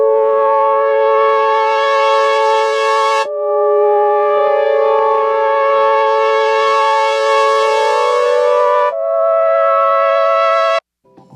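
Vintage synth from the Ultrasign plugin rings out in long, bright, buzzy held notes that slide between pitches, loud and upfront, ending with a sudden cutoff.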